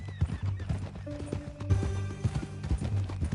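Horse hooves clip-clop in a video game played on PS4, a steady rhythmic trot of several close, crisp hoof strikes mixed with game music and a brief whinny.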